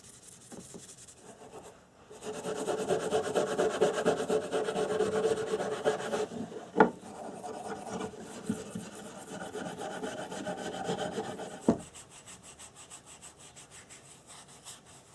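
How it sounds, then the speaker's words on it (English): Steel wool scrubs surface rust off a metal socket in quick, repeated rasping strokes, close and moderately loud, broken by a few sharp knocks as the tool is handled. "the steel wool does a very good job at cleaning up the metal"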